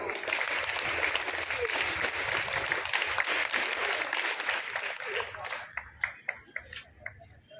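An audience at a school honouring ceremony applauds in a dense, sustained wash of clapping that thins out into a few scattered individual claps at the end, with a voice speaking over it.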